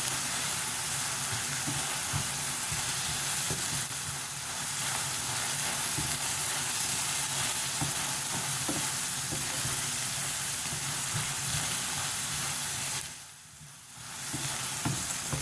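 Onions fry in a pan for a kefta dish with a dense, steady sizzle, close by, while stirring adds soft scrapes and knocks. The frying drops away briefly near the end and then returns, with no talking.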